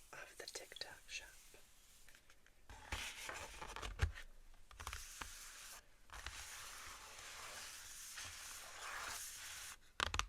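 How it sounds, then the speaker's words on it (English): A Fruity Mist soft-head highlighter marker swatches across paper in close, scratchy strokes, accompanied throughout by soft whispering. "the wonderful noises of the highlighter marker on paper"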